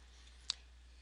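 A single sharp mouse click on an OK button in ArcGIS software, crisp and close against a faint steady hum, with no speech.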